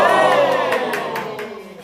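A reality-show group in a villa breaks into loud, close applause mixed with cheering and shouting voices, with sharp claps that fade gradually over two seconds.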